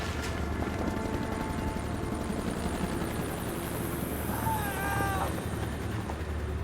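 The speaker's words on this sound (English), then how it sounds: "and the helicopter flew over." Helicopter flying over a snowy Montana mountainside after an avalanche, a steady, loud rotor drone filling the whole stretch with a faint thin tone rising briefly near the end.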